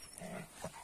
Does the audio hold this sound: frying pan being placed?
no